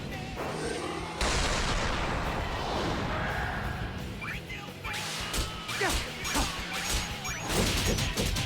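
A spirit bomb style attack erupts in Sonic X Shadow Generations, with heavy crashing impacts, booms and bursts of explosive noise layered over busy game sound effects, loud and continuous.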